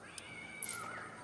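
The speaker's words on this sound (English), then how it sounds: "what happened to that cat?" A cat meows loudly inside the video game Anno 1800, one drawn-out, wavering yowl lasting about a second, close and piercing over a steady game ambience.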